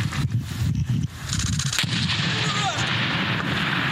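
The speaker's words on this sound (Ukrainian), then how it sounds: "Так працює американський гранатомет МК-19. За хвилину він може випустити 360 гранат." Rapid heavy bursts from an American MK-19 automatic grenade launcher on a front line, loud repeated thumping shots with harsh crackling echoes, while a voice speaks in parts of the clip.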